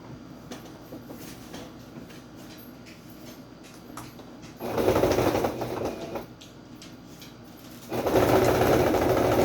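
A sewing machine stitches along the edge of a piece of fabric. The motor whirs steadily and up close in two loud bursts of running, with a low mechanical rumble filling the gaps between them.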